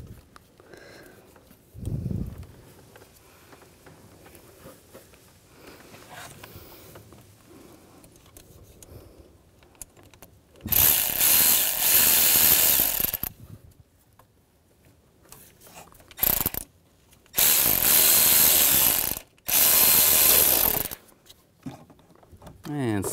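A ratchet tightens bolts on a 2011-2019 Ford Explorer dual cooling fan assembly: several loud, rapid clicking bursts of a few seconds each, separated by pauses, following some quieter handling noises.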